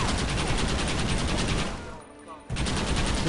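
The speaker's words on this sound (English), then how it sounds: "You man the Gatling gun, Marston!" Gatling gun firing in Red Dead Redemption, a loud, close, continuous rapid-fire roar that breaks off briefly and resumes.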